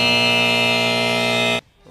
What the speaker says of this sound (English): Boy, Riley's really quick with that buzzer.